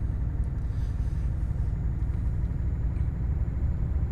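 A heavy truck engine in Euro Truck Simulator labours up a hill, a steady, loud low rumble that holds evenly throughout with no talk over it.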